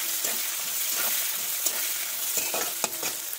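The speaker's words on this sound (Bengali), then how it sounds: "কড়াইশুঁটিগুলো দিয়ে দেবো। এই হালকা একটু নেড়ে নেবো" Green peas get stirred into fried onions in a hot wok, with close, steady sizzling and rhythmic scraping strokes of the spatula and a few sharper clacks against the metal.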